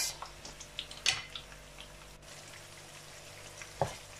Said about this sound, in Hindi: ऑयल गर्म हो गया, अब इसके अंदर डालेंगे जी प्याज